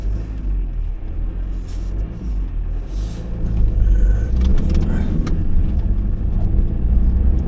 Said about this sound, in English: A lot of traffic on the prom.